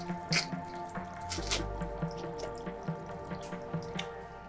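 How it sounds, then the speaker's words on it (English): A fresh pineapple is cored with a pineapple corer, giving soft wet squishes and dripping juice in irregular bursts, fairly close and quiet. "Got the pineapple corer here. That sounds so juicy."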